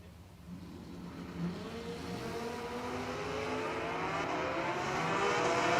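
A Thunderwolf Racing Camaro and a Kawasaki motorcycle launch off the line at a drag strip, engines building from a low rumble into a rising, steadily louder roar as they accelerate away.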